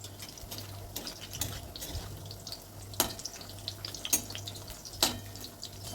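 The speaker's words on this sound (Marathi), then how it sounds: "तेलात आपण एक सोडून घेऊया आणि हे मीडियम गॅसवर आपण तळून घेणार आहे." Slices of bottle gourd fry in hot oil over a medium gas flame, giving a steady close sizzle broken by scattered sharp pops and crackles.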